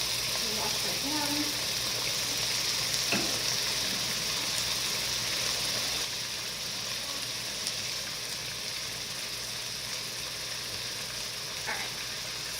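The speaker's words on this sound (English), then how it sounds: "get this all broken up so it can start to cook down with the onions, the garlic" Ground chili meat cooks down with onions and garlic in a pan, giving a steady, low hissing sizzle throughout while someone talks over it.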